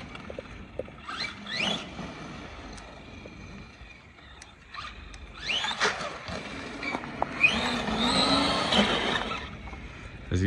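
A brushless 1/8 scale Remo Hobby EVO-R RC truggy running on a 2S battery, its motor whining in rising and falling bursts as it accelerates, moderately close, with scattered thumps and scrapes.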